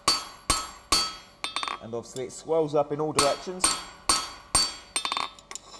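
A blacksmith's hammer rings on hot steel while forging a heart. Sharp, loud blows fall in a steady rhythm, broken midway by someone talking before the strikes resume.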